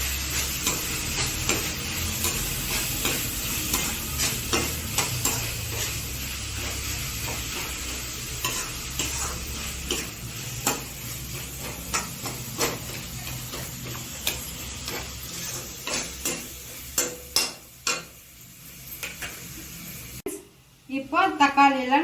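Onions and tomatoes sautéing in a pan for mushroom gravy, a dense steady sizzle with repeated ticking taps of a spoon stirring, the clatter growing sharper and more spaced near the end, with a voice talking faintly underneath.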